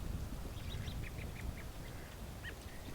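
Mallard duck quacking on a snowy pond, a series of short nasal quacks in a quick run, fairly faint over steady low outdoor noise.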